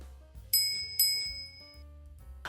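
A small bell rings twice in quick succession, bright and clear, over a faint background of low music.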